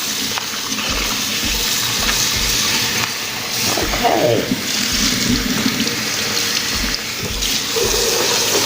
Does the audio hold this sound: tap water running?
yes